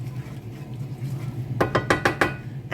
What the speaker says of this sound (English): I'm just going to give the curry sauce a little mix